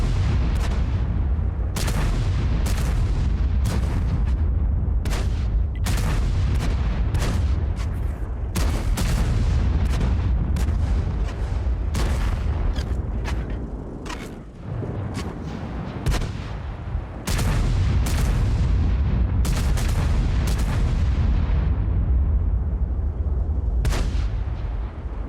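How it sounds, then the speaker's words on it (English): Big tank guns firing in World of Tanks: a long run of loud, booming cannon shots with deep rumbling echoes, each blast following closely on the last, with one short lull partway through. "you guys really just want to hear big guns going boom in World of Tanks"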